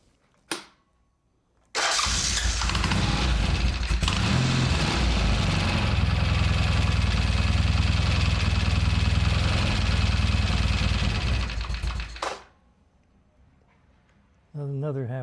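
A Norton motorcycle engine fires up after its carburettor is flooded and then idles loudly and steadily close by for about ten seconds before cutting off, with brief mechanical noises on either side.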